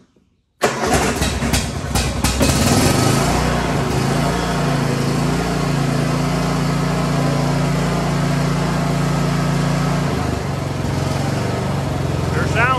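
A Cub Cadet XT1 riding lawn mower engine cranks a few times with the choke up, catches, and settles into a loud steady idle, then briefly dips and picks back up.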